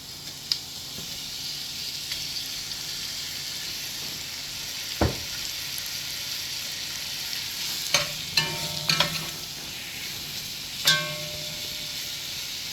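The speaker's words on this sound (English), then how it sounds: "we're going to brown the beef in small batches" Ground beef for chili browns in small batches in a very hot pan, a steady close frying sizzle that runs throughout, broken by several sharp clanks and scraping stirs toward the end.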